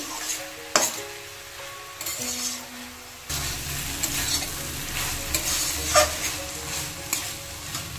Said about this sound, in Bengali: এভাবে নাড়তে নাড়তে একটু সুন্দর আঠেলো ভাব হয়ে গেলেই শাকটা ভাজা একদম রেডি।